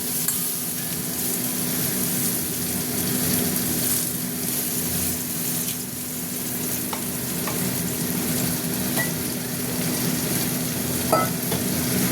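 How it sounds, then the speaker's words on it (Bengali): Carrot and pea vegetables sizzle steadily in a frying pan, a continuous close crackle with occasional stirring scrapes and no talk. "ভাজা ভাজা হবে সবজিটা"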